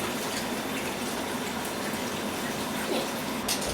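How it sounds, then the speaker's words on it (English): Cold water poured over curdled milk sitting in a fine sieve, a steady close gush and splash of running water, uninterrupted and without voices. "Add some cold water on top to cool it down."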